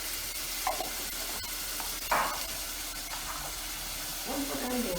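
Fenugreek seeds and dried turmeric sizzle in hot oil for an egg curry, a constant hiss with a few stirring scrapes and a brief louder splutter.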